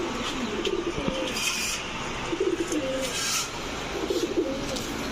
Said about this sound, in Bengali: হোয়াইট কালারের গোল্লা আরো একটা মাদি কবুতর দেখেন।